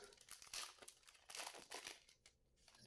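Riftbound Origins League of Legends trading card booster packs are crinkled and wrestled open, with quiet, close foil crackling in uneven bursts.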